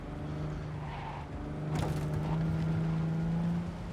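Car engine droning steadily in Cyberpunk 2077 as the vehicle drives, with a louder burst of skidding tire noise midway and a sustained engine tone afterward, no voices.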